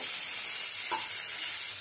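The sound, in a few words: stirring cauliflower frying in oil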